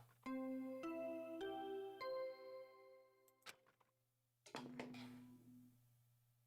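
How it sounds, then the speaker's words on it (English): Body discovery announcement chime from the Danganronpa video game: a series of bright bell-like tones stepping one after another over a low hum, then a sharp hit and a second ringing burst fading out. "What you just heard was the body discovery announcement."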